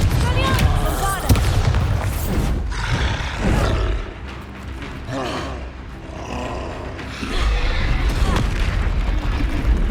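A Bombarda blasting spell in the Hogwarts Legacy video game sets off booming explosions with rumbling roars and crackling debris, loud and layered over game music and combat effects.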